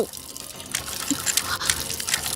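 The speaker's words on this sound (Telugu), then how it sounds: "నువ్వు ఫోన్ చేసినప్పటి నుంచి ఆ ట్యాప్ కారుతూనే ఉంది" Water from a leaking tap runs into a sink, a steady splashing trickle close by with no talk over it.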